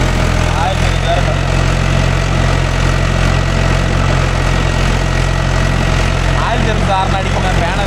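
A Mahindra 575 DI tractor engine idles close by in a village setting, a loud, steady low rumble that never lets up, while voices talk faintly over it.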